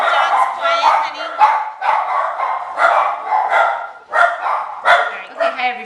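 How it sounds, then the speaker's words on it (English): Dogs barking and yipping in a home kitchen while someone comes to the door, a burst of sharp repeated barks close by with whimpering yips in between. "There was a lot of dog action, dog barking."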